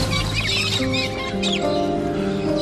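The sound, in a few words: birds singing in the morning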